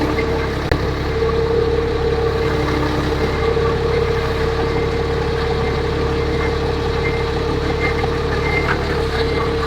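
A forklift's engine runs steadily at a low, even drone while the machine is driven during practice, a constant close mechanical hum with one brief clunk early on and no voices.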